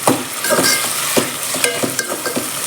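Tomatoes and onions sautéing in a pan for coconut milk rice, with a steady sizzle broken by repeated scraping stir strokes, close and fairly loud, with no voices.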